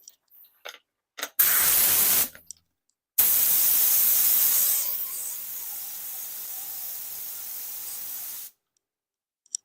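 Aerosol sealant sprays onto a Boba Fett paint job on an HJC helmet in two bursts, a short loud hiss followed by a long steady spray of several seconds that softens partway through before cutting off.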